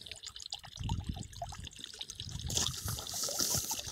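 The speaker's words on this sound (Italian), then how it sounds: "l'acqua scorre qui." Water trickling and splashing from an old village stone fountain on a street, a close, continuous dribble that grows a little louder and brighter toward the end, heard alone without voices.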